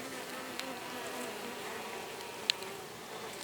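A dense, continuous drone of many honey bees buzzing close by at an opened hive, with a couple of faint clicks and taps over the steady hum.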